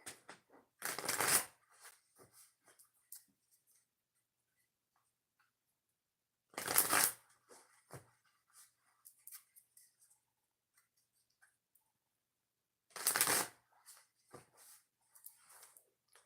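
Cards are shuffled in three separate quick riffle bursts spaced several seconds apart, with soft handling noises between them.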